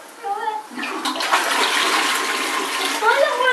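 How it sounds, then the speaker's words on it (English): A toilet flushes in a loud rushing surge of water that swirls and drains for a few seconds, with brief voice-like sounds in the background. "you're rubbish at flushing the toilet, Felix."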